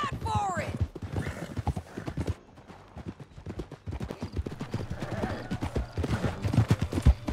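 Horse hooves pounding at a gallop in Red Dead Redemption 2, a fast, steady clip-clop with a brief whinny at the start, loud and near, while voices talk over it.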